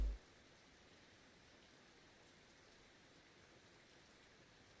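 Steady rain falling in the fishing game Russian Fishing 4 at the Old Burg water, a soft, continuous hiss that holds at a constant low level, with no voices.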